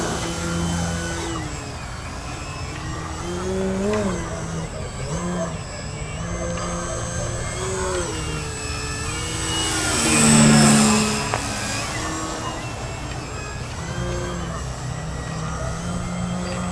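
A PA Addiction XL RC airplane flies 3D maneuvers, its electric motor whining and sweeping in pitch throughout, with one louder swell as it passes close by partway through against steady outdoor background.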